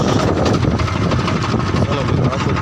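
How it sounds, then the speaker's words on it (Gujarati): A farm tractor engine starts and runs, a loud, dense low rumble chugging steadily throughout, with someone talking over it. "ચાલો મિત્રો, આપણું ટ્રેક્ટર થઈ ગયું સ્ટાર્ટ"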